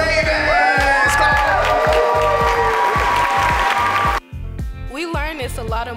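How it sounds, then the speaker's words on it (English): A student showcase audience claps, cheers and whoops for a girls' group, loud and close, while music with a heavy beat plays over it, the crowd noise thinning near the end as the music continues. "let's give a round of applause for an amazing group, very diverse, of ladies called the Radiant Ravens"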